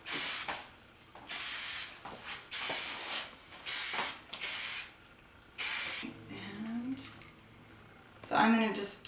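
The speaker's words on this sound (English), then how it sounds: "hairspray this down" Repeated hairspray bursts misted over a twisted rope French braid, about seven loud hissing sprays in a steady rhythm, each roughly half a second long, followed by quieter handling sounds and a brief voice near the end.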